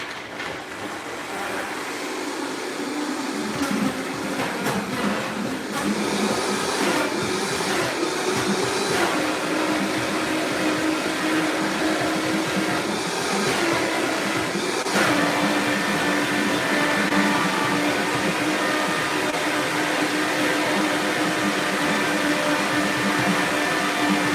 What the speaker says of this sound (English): Put it on your blender, load it up.